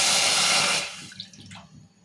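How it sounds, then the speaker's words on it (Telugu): Water poured from a cup into a thick pan while making chekodi dough, a short loud splashing pour that stops abruptly, followed by faint drips and light clinks. "ఇక నీళ్ళు పోస్తున్నా. ఈ కప్పుతో పిండి తీసుకున్నాం కదా, ఈ కప్పుతోనే నీళ్ళు పోస్తున్నా."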